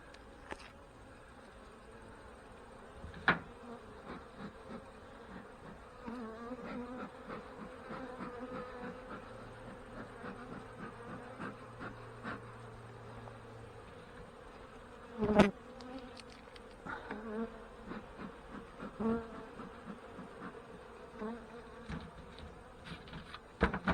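Honey bees buzz steadily through a hive inspection, a close, continuous insect drone, broken by occasional knocks and clicks as frames are handled.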